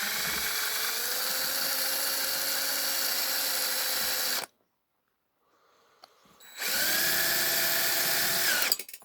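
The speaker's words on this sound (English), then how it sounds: "I'm gonna have to re-drill that rear one" Power drill re-drilling a hole in a die-cast model bus (No 17 Londoner / No 74 Daimler), a loud steady whine for about four seconds, a pause of quiet, then a second sustained burst.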